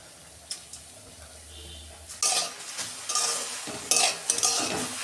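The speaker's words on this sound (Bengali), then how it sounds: "তিলটা আমি শুকনো খোলায় একটু নেড়ে নেব।" Sesame seeds are stirred in a dry pan: a quiet start gives way to bursts of rough, scraping rattle and clinks of a utensil against the metal, rising and falling with each stir.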